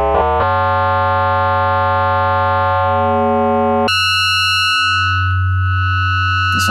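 A Roland System-8 synthesizer oscillator plays a harmonically rich, buzzy sustained tone, one note changing after a brief start and then jumping higher near the middle, loud and steady with no voice.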